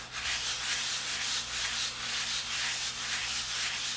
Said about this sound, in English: as you rub these pages more and more now that you've sanded it